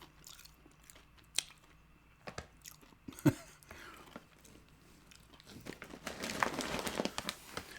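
Crunchy Chex Mix snack being bitten and chewed close to the mic in a quiet ASMR setting, with scattered crisp crunches and crinkling that thicken into denser chewing near the end.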